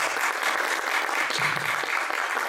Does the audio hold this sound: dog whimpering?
no